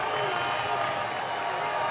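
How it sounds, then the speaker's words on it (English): Basketball arena crowd at a college men's game, tied late in play, roaring and applauding in a steady dense wall of cheering noise that fills the space without a break. "Crowd making some noise."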